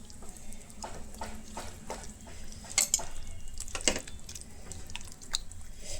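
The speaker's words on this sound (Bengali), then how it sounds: "আমি একটু টমেটোগুলো ম্যাশ করে দিচ্ছি।" Tomatoes mashed by hand with fish, a steady series of close, wet squishing and squelching pulses with occasional sharper slaps, moderate in volume.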